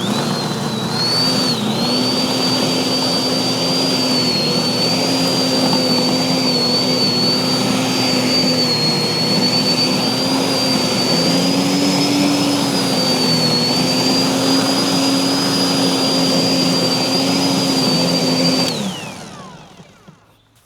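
A lawn dethatcher runs steadily for about eighteen seconds, pulling grass from the understory, with a strong whining motor hum and a high tonal whine, close and loud, then it shuts down and fades quickly.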